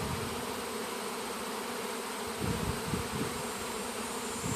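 Swarm of honeybees clustered on the ground at an aquaponics site, a dense continuous buzzing heard up close with a few louder swells as bees pass near.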